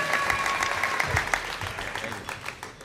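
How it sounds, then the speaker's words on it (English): Live storytelling-show audience clapping together in a steady, dense burst that holds throughout and eases slightly toward the end, with a few louder individual claps and faint voices mixed in. "Big round of applause for Jesse."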